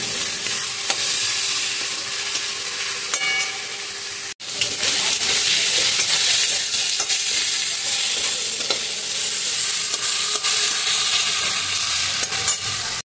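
Snake gourd with dried fish fries over low gas, a dense, steady sizzle with scattered stirring scrapes and one sudden brief dropout partway through, close and without talking.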